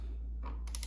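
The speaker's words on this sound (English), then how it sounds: "We have our torque wrench set to 11 Newton meters" A torque wrench set to 11 Nm clicking on a spark plug of a 2005 Suzuki GSX-R1000, a brief close mechanical click followed by a couple of crisp ticks, no voices.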